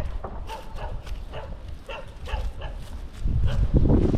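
A dog near a rural manor at Žarėnai barks in short repeated bursts at a distance, a series of sharp woofs over outdoor background noise, growing rougher and louder toward the end.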